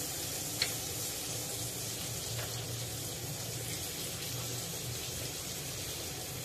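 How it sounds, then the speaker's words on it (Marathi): Prawns fry over a low flame in a pan, a faint, even sizzle running steadily with a single soft click early on and no other sounds. "कोळंबी पलटून घेऊया।"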